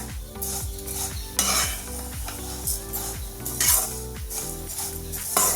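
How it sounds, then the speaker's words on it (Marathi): Wheat vermicelli roasting in ghee in a pan for a savoury upma, stirred with repeated scraping and clinking strokes and a light sizzle, partly masked by steady background music. "ह्या अशा आपल्याला 5 मिनिट तुपावर भाजून घ्यायच्या।"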